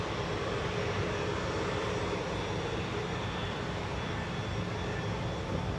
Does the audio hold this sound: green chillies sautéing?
no